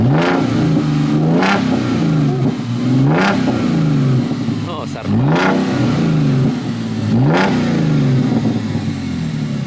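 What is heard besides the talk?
Audi V6 S-Line engine revving, dual exhaust valves open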